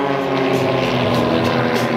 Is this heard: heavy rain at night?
no